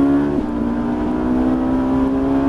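A Ferrari F458 on a race track under hard braking, its engine giving a steady, loud, close tonal drone with a brief dip at the start, heard without speech.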